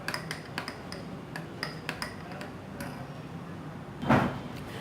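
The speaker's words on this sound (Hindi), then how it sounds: "अब एक में ये कोको पाउडर डालेंगे 1 टीस्पून और इसको अच्छी तरह मिक्स कर लेंगे।" A spoon mixing a teaspoon of cocoa powder into ice cream mixture: a quick run of light, rhythmic taps against the bowl, then a single heavier knock, close in a quiet room.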